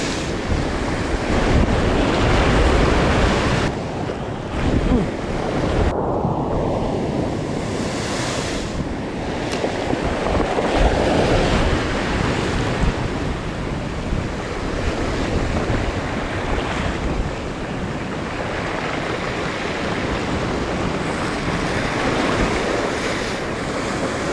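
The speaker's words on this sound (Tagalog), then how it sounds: "Lakas ng alon, oh." Strong surf crashes and roars continuously against the shore in rainy weather, with heavy wind buffeting the microphone throughout.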